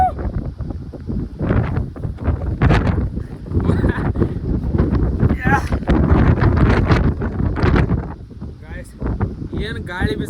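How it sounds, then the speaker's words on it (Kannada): Strong wind gusts across a hilltop, buffeting and roaring against the microphone in loud, uneven surges while people talk over it. "ಏನು ಗಾಳಿ ಬಿಸಾದತ್ತೆ ಹೇಳಿ."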